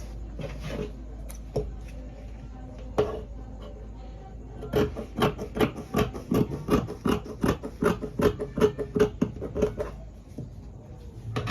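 Scissors cut through fabric for a kimono shirt on a table, a rapid run of crisp snipping strokes building in the middle, with scattered paper and cloth handling before it and no talk.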